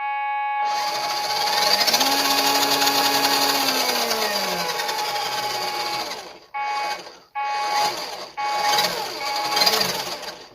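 The electric motor of a WPL D12 1:10 Suzuki Carry RWD drift truck whines loudly on throttle, its pitch rising and falling, then cutting out and revving again in short bursts.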